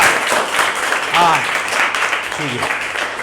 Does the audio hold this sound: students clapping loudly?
yes